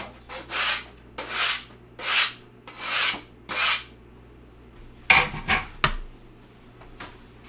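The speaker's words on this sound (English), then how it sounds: "Where's that bench scraper at? Just scrape all this off." A bench scraper drags across a work surface, clearing off pizza dough in five loud, evenly spaced scraping strokes, then a few quicker, sharper scrapes and knocks.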